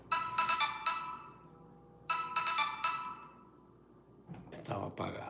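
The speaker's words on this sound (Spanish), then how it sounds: "Van a escuchar como 200 mensajes que me van a caer, porque ahorita encendí el celular de nuevo." A cell phone just switched back on sounds repeated short message notification chimes in bursts, followed by a brief voice near the end.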